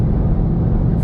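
Hyundai Veloster N engine under load on the Nürburgring Nordschleife, a loud, steady low droning roar heard from inside the car, continuous with no talk.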